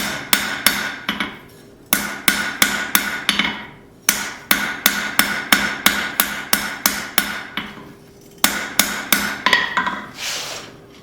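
A hammer strikes a fillet knife blade on an anvil in rapid bursts of about five to seven ringing metallic blows, each group separated by brief pauses, close and sharp.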